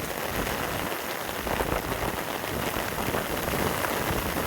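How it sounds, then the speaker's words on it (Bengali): Heavy rain pours down steadily in open country near a fish-netting spot, a dense, loud, unbroken roar of drops hitting surfaces with no voices. "আসলে এত বৃষ্টি, অনেক বৃষ্টি"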